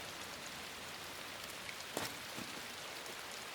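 Rain in the video game Inside patters as a soft, steady wash of drops, quiet and continuous, with a couple of slightly sharper taps near the middle; no voices.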